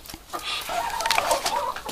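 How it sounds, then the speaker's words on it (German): A rooster and hens cluck and murmur close by while feeding, a busy overlapping stream of short clucks and chirpy calls throughout. "Jetzt kommt auch der Hahn schon hier ran."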